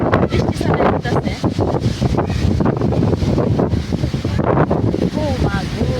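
Gusty storm wind roars across the microphone in a sudden afternoon squall, loud and steady with buffeting swells, while a voice speaks faintly beneath it.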